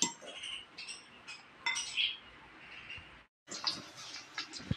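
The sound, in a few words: meatloaf frying in a pan with beaten egg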